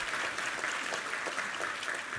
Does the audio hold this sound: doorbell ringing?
no